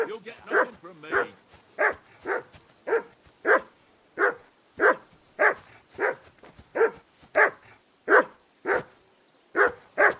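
A dog in the video game Kingdom Come Deliverance 2 barks repeatedly in a fairly regular rhythm, about twenty loud, close barks with short gaps between them.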